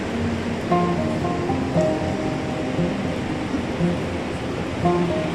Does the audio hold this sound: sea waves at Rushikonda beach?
yes